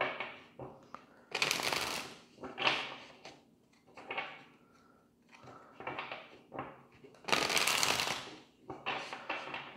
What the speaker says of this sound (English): Let's get three shuffles.